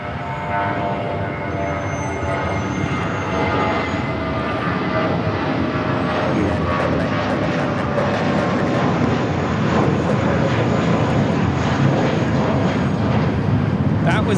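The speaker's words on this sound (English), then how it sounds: "That was United Airlines 797 taking off to Los Cabos on the A320." An Airbus A320 jet taking off at LAX, a broad, steady engine roar swelling gradually over the whole stretch and staying loud throughout, with no voices.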